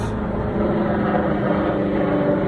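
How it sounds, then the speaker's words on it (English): Steady low rotor drone of a helicopter fills the whole stretch, constant and fairly loud with no talking, as if passing overhead in a city. "Helicopter."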